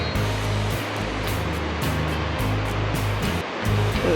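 Ocean surf along an overcast Baja coast, a continuous, broad wash of breaking waves with rolling low rumble, steady and moderately loud with no voices.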